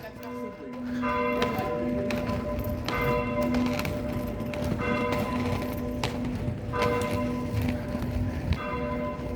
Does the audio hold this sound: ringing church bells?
yes